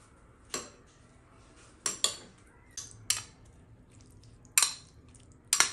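A spoon stirring a peppered sauce in a bowl, with about seven crisp, separate metallic clinks spaced irregularly over a quiet background.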